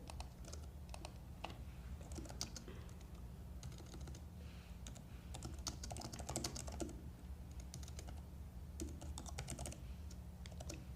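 Typing on a computer keyboard, a continuous stream of quick light key clicks at close range with a low steady hum underneath, no speech.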